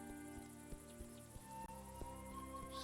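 Crickets chirp in a steady, layered chorus across an outdoor grassy evening scene in the video game A Juggler's Tale, with soft ticking pulses and a constant high shimmer, no voices.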